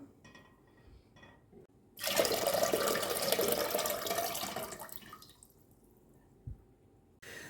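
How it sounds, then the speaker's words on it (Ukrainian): Marinade pours steadily from a jar into a pot for about three seconds, a broad splashing rush, followed by quieter kitchen sounds and a soft clunk. "Виливаю в каструлю."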